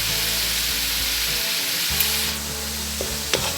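Rice with black pepper, cumin and salt sizzles and fries steadily in a hot pan, a dense continuous hiss with a few soft scraping stirs of the spoon near the end, close and with no talking.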